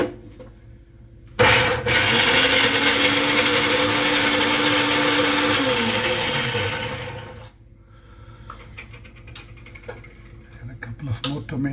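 A kitchen blender whirs loudly for about six seconds while blending tomato chutney with tomato and salt, its motor pitch sliding down as it slows and stops, then quiet handling noises follow.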